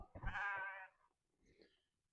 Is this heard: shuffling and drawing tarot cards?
no